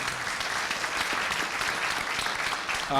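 Dense, continuous audience applause fills a high school gathering at Peekskill High School, steady and loud across the full three seconds, with no voices standing out above the clapping.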